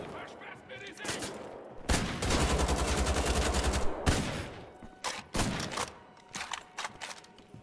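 Rapid bursts of gunfire from two guns fired at once in the shooter game Wolfenstein: The Old Blood, loud and dense, with a sustained stretch of fast automatic fire and a few sharper shots afterward.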